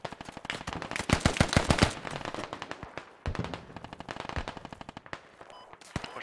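Rapid bursts of machine gun fire in the military shooter game Squad, with dense rattling volleys, brief pauses, then further sustained automatic fire, loud and close throughout.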